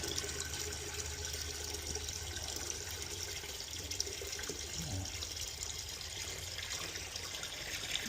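Water pours fast from a tap into a container in a home fish room, a steady, fairly loud rushing fill that runs unbroken from start to finish with no talk over it.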